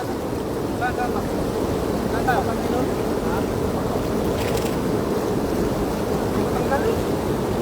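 Wind and rough sea roar steadily around a small boat during net fishing as the water rises, a dense continuous wash with faint voices and brief higher squeaks in the background.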